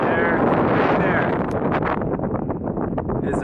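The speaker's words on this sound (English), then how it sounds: "And it's super windy and very cold" Strong, cold wind buffets the microphone on an exposed mountain ridge near Mount Albert Edward, a steady loud roar with gusting rustle that runs throughout.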